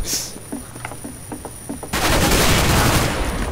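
Sustained automatic gunfire in the game CS:GO erupts loud and dense after a stretch of quieter in-game sounds, with several short weapon bursts and impacts before it, and no talking.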